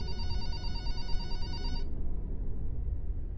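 A telephone rings in the horror video game Without Fears, an electronic bell tone heard for under two seconds before cutting off, leaving a low dark ambient rumble beneath.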